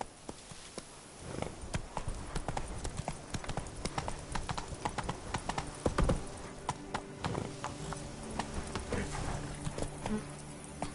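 Horse hooves clip-clop steadily as a horse is ridden in The Witcher 3: Blood and Wine, a continuous close trotting rhythm over ambient game sound.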